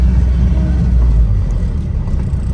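A Nissan Navara engine runs with a loud, steady low rumble, revving but held back as it cuts out around 2000 rpm, the note staying flat and heavy without climbing.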